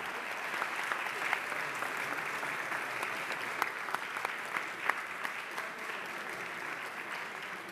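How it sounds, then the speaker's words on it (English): An audience at a New York City Council meeting gives a sustained round of applause, steady clapping from a crowd filling the whole stretch at moderate loudness, with no talking over it. "So I want to give Caitlin a very big round of applause"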